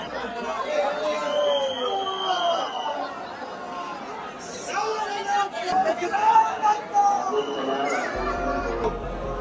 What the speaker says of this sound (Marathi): खूप म्हणजे खूपच गर्दी आज